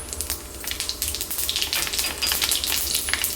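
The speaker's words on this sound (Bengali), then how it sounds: "প্রথমে আমি এতে দিয়ে দিব" Panch phoron spices crackle and sizzle in hot oil for a moment before chopped onion goes in, a busy, steady hiss close up with small popping bursts throughout.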